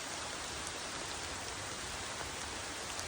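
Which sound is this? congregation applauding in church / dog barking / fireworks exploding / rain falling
rain falling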